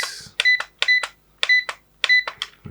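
Four short paired electronic beeps from a DS 6657 LED alarm clock as its alarm button is pressed, crisp and close, evenly spaced with brief pauses between each pair.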